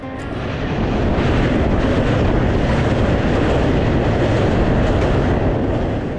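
A Falaknuma Express passenger train out of Howrah gives a loud, continuous rumble with rhythmic clickety-clack of wheels on rails, close and steady throughout.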